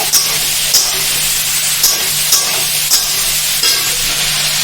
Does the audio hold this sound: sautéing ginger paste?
yes